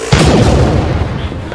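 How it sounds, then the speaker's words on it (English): Heavy sci-fi neutron torpedoes fire in a deep, booming blast with a rolling low rumble, loud and close, sustained over a second or more of dense, explosive noise. "Snoich, fire the neutron torpedoes!"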